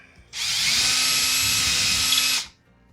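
A power drill bores into a wooden wall stud for a Mounting Dream MD2296 TV wall mount, giving one loud, close, steady whine of about two seconds that starts and stops abruptly.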